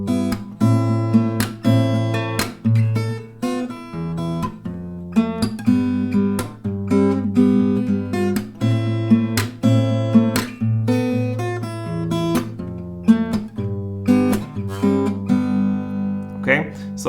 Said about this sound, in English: You can now build in the melody into the strumming with the beat,